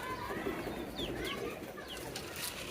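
Pigeons on a farm give soft, low coos amid faint chirps and other bird calls, steady but quiet at a moderate distance with no talking.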